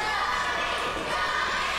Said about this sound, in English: The crowd getting behind Johnny Slaughter tonight